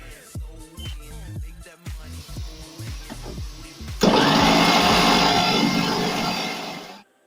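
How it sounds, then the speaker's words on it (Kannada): A kitchen mixer grinder whirs loudly as mint and coriander are ground, following a stretch of short choppy bursts with a steady, dense roar that runs for about three seconds before cutting off abruptly. "ಗ್ರೈಂಡ್ ಮಾಡಿರೋ ಮಿಕ್ಸರ್ಗೆ ಇವಾಗ ಪುದೀನ ಮತ್ತು ಕೊತ್ತಂಬರಿ ಹಾಕ್ಕೊಂಡು ಗ್ರೈಂಡ್ ಮಾಡೋಣ"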